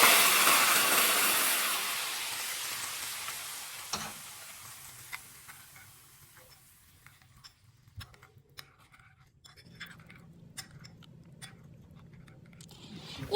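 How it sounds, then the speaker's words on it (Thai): Hot oil poured over sauce in a home kitchen, a bright hissing sizzle that starts loud and gradually fades, leaving faint scattered crackles and small pops. "หลังจากที่เราเอา น้ำมันร้อนๆมาลาซอสนะคะ"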